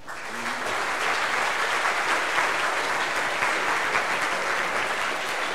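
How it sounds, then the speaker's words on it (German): An audience at a stock-market club event in Halle breaks into loud, sustained applause for a guest speaker, many hands clapping steadily from the first moments to the end. "Und deswegen bitte ich um einen ordentlichen Applaus"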